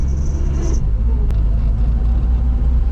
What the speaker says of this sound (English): I'm just gonna go ahead and drive around the block.